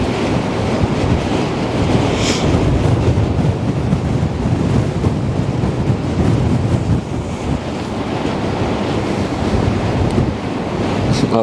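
Strong, steady wind buffets the microphone at the Westerschelde shore, a continuous loud roar with waves and surf rolling underneath throughout, no voices.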